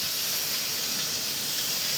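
Steam venting from an Instant Pot Duo Nova 7-in-1 pressure cooker during pressure release, a loud, steady, close hiss that stays constant for the whole stretch with no talking over it.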